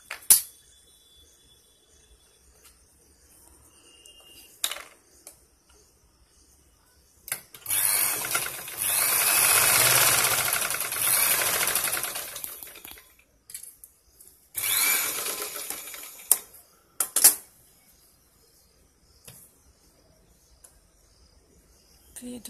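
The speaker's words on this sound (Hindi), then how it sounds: "इस तरीके से तिरछी सिलाई लगाएंगे।" A sewing machine stitching slanted tuck seams on a blouse runs in two bursts, a longer whirring run then a shorter one, separated by quiet pauses with a few clicks.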